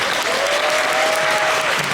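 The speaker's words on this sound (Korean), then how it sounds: "큰 박수로 맞이해 주시기 바랍니다" Audience applause at a musical's curtain call stage greeting, dense sustained clapping from a theatre crowd with a faint thin tone running beneath it.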